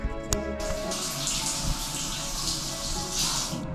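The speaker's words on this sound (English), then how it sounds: "Shower." Steady broadband rush of shower water running inside a sensory deprivation float-tank room, continuous and fairly close for the whole stretch, with a brief click near the start.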